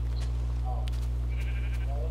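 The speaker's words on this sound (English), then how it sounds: "Sheep fell into the creeper hole." Minecraft sheep bleat in the video game, two short wavering cries over a steady low electrical hum with faint background sounds.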